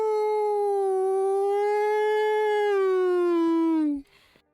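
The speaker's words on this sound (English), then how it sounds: "as a siren starts going off in the middle of town" A siren wails alone through a town as a radio drama effect, one long steady tone that bends slightly and then cuts off abruptly.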